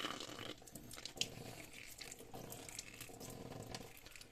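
Banknotes being washed by hand under running water, with steady splashing and rubbing from a tap or sink, fairly quiet and continuous with small crinkly splashes throughout.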